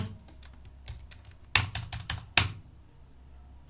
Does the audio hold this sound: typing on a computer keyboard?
yes